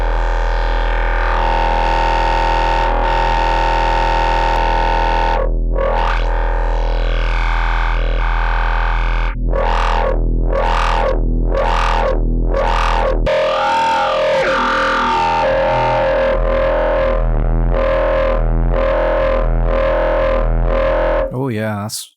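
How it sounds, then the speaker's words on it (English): Synthesizer sound run through a notch and low-pass filter with distortion, loud and buzzy, with a sustained tone giving way to rhythmic filter sweeps and repeated pulsing notes before cutting off abruptly. "Let's try using a notch and low pass."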